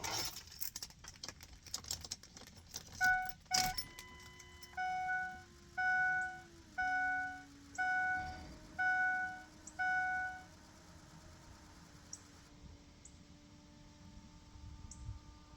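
Ignition key cycled repeatedly in a 2004 Ford F250 with the 6.0 diesel, raising a series of about six evenly spaced electronic chimes or fuel-pump hums inside the cab, each lasting under a second, after some brief rattling.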